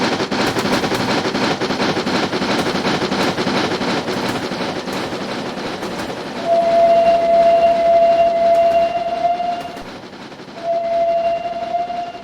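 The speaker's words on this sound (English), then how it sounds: "let's get a nice passing by shot of the loco" An RM P Class Atlantic steam locomotive in the Train Simulator game rolls past with loud, steady rail clatter and rumble. A sustained high whistle sounds twice near the end, with no talking.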